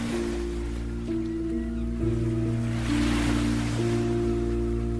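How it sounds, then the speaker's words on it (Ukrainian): Ocean waves wash and hiss gently, with a swell rising in the middle, under a steady layer of sustained musical tones. "Хвилі лягають на пісок"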